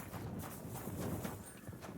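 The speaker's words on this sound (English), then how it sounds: "Horse." Horse hooves clopping in the medieval video game Kingdom Come: Deliverance II, a steady walking clip-clop held at a fairly even level for about two seconds, with no speech over it.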